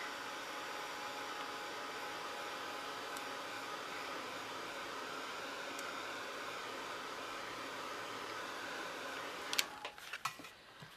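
A hair dryer or heat tool blows steadily on a distressed paper tag in a crafting session, a continuous even whoosh that cuts off near the end, followed by a few handling clicks and taps.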